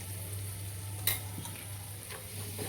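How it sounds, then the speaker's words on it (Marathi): Spices (coriander powder, chili powder and turmeric) roasting with browned garlic in a pan for a spicy Maharashtrian eggplant curry, giving a steady low sizzle with a few soft stirring scrapes, close and alone without talk. "हे असं मसाला भाजून घ्यायला।"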